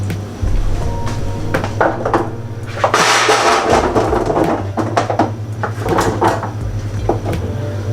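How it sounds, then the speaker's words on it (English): Roasting trays of vegetables slide and clatter into a home oven, with several close metallic knocks and scrapes of tray against oven rack and a door bump, over a steady low kitchen hum. "Let's get it in the trays and get it in the oven."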